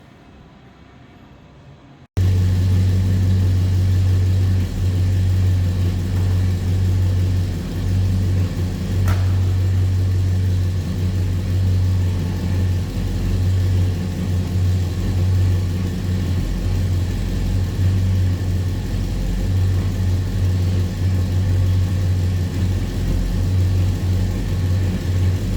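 A 1965 Oldsmobile Cutlass convertible restomod engine running steadily with a deep, constant low rumble as the car drives, after a brief quiet start.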